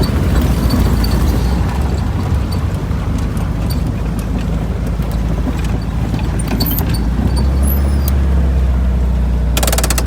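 Hot VW Thing engine idling after a drive uphill, a loud, steady low rumble up close that stays even throughout, with a brief burst of hiss near the end.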